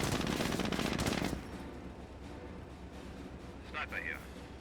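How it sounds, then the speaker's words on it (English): A .30 cal machine gun fires in a Company of Heroes World War II battle, a rapid loud burst of rattling shots for just over a second, then distant battle rumble with a brief high game cue near the end. "30 cal firing away, finds some Panzer Grenadiers."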